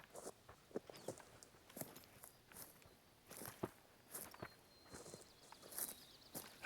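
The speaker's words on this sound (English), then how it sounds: "Listen to those footsteps. They are absolutely rubbish. Like this bear is basically patting the floor." A bear walking in the hunting video game theHunter: Call of the Wild makes soft, light padding footsteps in an irregular rhythm, fairly faint and close.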